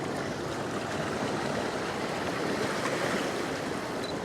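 Ocean waves wash in over jagged coastal rocks in a continuous, dense roar of surf and churning water, loud and close, with no voices.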